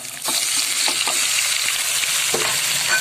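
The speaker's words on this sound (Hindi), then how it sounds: "5 से 7 मिनट इस चिकन को मैं फ्राई करूंगी, जब तक ये चिकन बिल्कुल फ्राई होके वाइट नहीं हो जाता" Chicken frying with garlic in a pan gives a loud, steady sizzle up close, broken by several scraping knocks from stirring.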